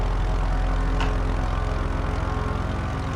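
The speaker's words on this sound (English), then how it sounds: "Oh, I hear a plane." A propeller-driven light aircraft in Microsoft Flight Simulator 2024 drones loudly and close, its engine throbbing with a steady low pulsing buzz for the whole stretch, with no talking over it.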